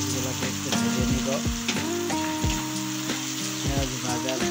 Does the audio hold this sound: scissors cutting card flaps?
no